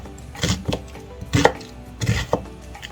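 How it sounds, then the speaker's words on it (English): A medium-sized onion is finely sliced with a knife on a board, six or so distinct chopping thuds in uneven pairs and clusters, close and fairly loud, with no talking. "we've got a medium sized onion, and we're going to finely slice it up"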